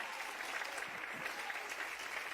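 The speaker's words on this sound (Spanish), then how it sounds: "Y atrás denle un aplauso al Señor." Faint, steady applause from a church congregation, many hands clapping together in an even wash that runs throughout without letting up.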